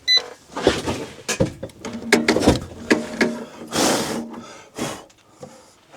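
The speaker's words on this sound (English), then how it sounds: "Straight onto the cutting machine, boys. Let's turn the power on." A key cutting machine for auto locksmith work runs in loud bursts, grinding and whirring through several short passes with clunks and pauses between them, close up and with no talk.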